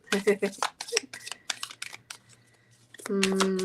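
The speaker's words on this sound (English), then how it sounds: "So, while I'm shuffling" Oracle cards being shuffled by hand, quick papery riffles and slaps in bursts at the start, with someone speaking over and after the shuffling.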